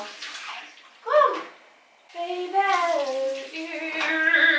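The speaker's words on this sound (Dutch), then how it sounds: "Kom, Bola, douche." Shower water runs and splashes nearby in bursts, with voices speaking over the flow.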